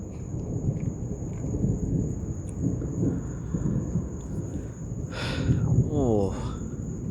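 Thunder rolls and rumbles through an intense lightning storm, a steady low roar with rain and a constant high tone, while a voice speaks and exclaims briefly near the end.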